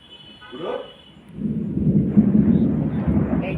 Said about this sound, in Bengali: এই যে মেঘের গর্জন, এই যে ঝড় উঠেছে কিন্তু বৃষ্টি পড়ছে না।